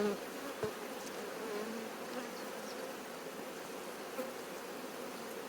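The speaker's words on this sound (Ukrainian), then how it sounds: "бджоли є маса, маса бджоли" A dense, steady hum of many honeybees buzzing close by at an open hive, a continuous droning swarm with a few soft knocks.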